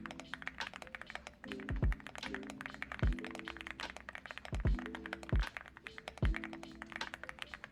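Typing on a Leobog High 75 mechanical keyboard fitted with Jungle V2 switches, a steady close patter of deep, muted keystrokes with a few heavier thocks from the larger keys, heard alone.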